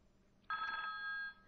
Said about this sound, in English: The ringing that you heard was my indication that I had received a phone message.